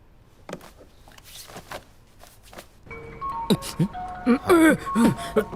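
A mobile phone ringtone bursts in partway through, loud melodic tones ringing out after a stretch of quieter rustling and movement, with brief voices nearby in an office setting.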